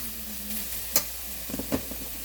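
Ground turkey and vegetables sizzle steadily in a stir fry pan, a constant close hiss with a few sharp scrapes and clinks from stirring, no speech.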